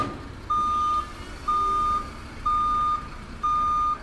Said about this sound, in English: Hold it! Back the truck up.